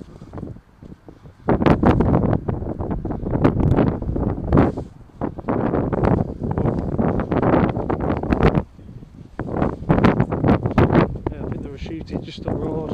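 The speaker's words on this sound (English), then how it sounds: "it's windy, sorry. It's British wind though." Gusty British wind buffets the microphone outdoors during a walk through a town centre, a loud continuous rumbling roar with brief lulls, heard under intermittent talk.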